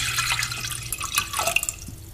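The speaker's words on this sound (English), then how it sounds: "I'm gonna be adding 4 cups of water" Water runs and splashes into a pot, four cups measured out as the base for chicken stock, a close, steady pour with small drips and splashes, no voices.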